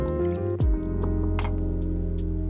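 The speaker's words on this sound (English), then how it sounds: "Add 250 ml of the udon broth" Udon broth poured into a saucepan holding fried tofu, a short liquid splash and gurgle followed by scattered drips, close and moderately loud.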